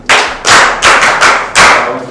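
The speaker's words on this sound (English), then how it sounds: "And clap for him too." Classroom clapping for a student, a handful of loud, close claps in an irregular rhythm, a couple bunched together, each fading briefly before the next.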